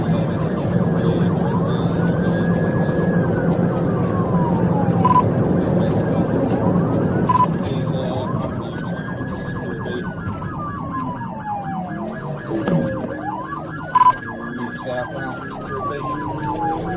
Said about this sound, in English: if he went immediate to lights and siren